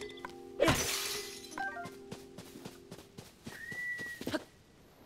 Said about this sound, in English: I think that was a bird whistle.